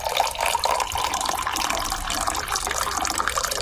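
Green water poured into a champagne glass, a steady splashing trickle that runs continuously and close for a few seconds, with no talking over it.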